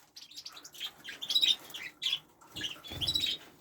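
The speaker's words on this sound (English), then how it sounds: "It looks like this canary wants to get out." A canary in a cage chirps in quick, bright bursts, with a soft rustle of fluttering wings near the end, close by and fairly quiet, with no talking.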